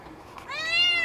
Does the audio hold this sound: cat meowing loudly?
yes